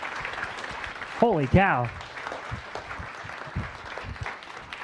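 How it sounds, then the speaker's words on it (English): An audience at a science cafe talk on black holes gives a round of applause, steady clapping from a modest crowd while someone speaks a short exclamation over it near the microphone. "Let's give Dr. Mack a round of applause"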